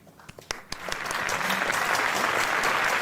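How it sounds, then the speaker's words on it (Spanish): Scattered individual claps quickly swell into full, sustained applause from a crowd, growing louder and denser after the first second. "Bueno, no un minuto de silencio, quizá un aplauso"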